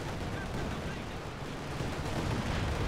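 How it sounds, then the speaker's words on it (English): Artillery fire in the WWII strategy game Company of Heroes 2 on the Essen Steelworks map, a dense continuous rumble of overlapping blasts and gunfire with no distinct gaps, loud and steady throughout. "all the artillery is in the sector right now"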